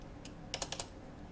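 Quick burst of four or five soft keystrokes on a computer keyboard, close and faint over quiet room hiss.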